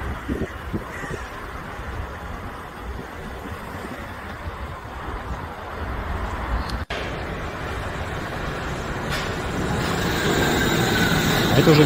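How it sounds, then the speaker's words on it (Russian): Wuppertal suspended monorail train in Germany running over a river, heard as a steady rumbling rail-vehicle roar that builds gradually louder toward the end, with no voices. "подвесное метро Вупперталь, Германия."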